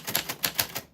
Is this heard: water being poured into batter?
no